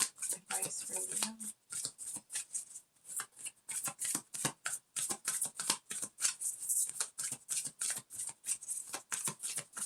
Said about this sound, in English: we're just going to pull one advice card here from the Affirmator stack